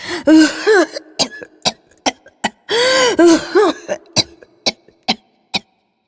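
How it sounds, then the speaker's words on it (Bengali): A man coughs in harsh, hacking bouts, then clears his throat with short sharp bursts, all close and loud. "এই সময় লোকটা অত্যন্ত কাশিতে লাগিল"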